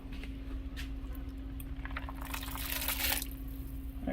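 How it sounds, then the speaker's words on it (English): Rinsed canned black beans slide and splash from a can into a crock pot for chicken tortilla soup, a wet gush building near the end over a steady low kitchen hum. "we're going to pour this into the crock pot"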